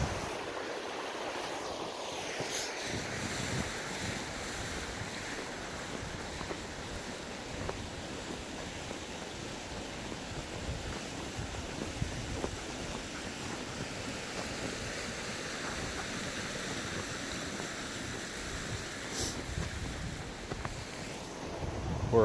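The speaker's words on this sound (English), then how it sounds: "We're approaching the Minnehaha waterfalls." Continuous rushing water from Minnehaha Falls roars steadily in winter, broad and unbroken, mixed with some wind buffeting, with no voices.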